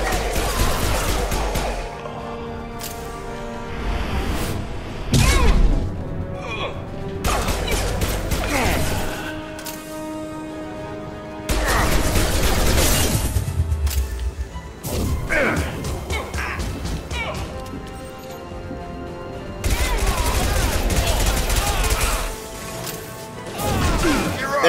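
Dense, continuous gunfire from a firefight in the video game Mass Effect 2, with rapid shots and sharp impacts layered under a steady loud game soundscape and music for nearly the whole stretch.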